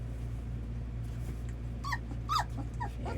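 Red Labrador puppies whimpering at feeding time: a few short, rising high-pitched whines and yips near the end, close by over a steady low background hum.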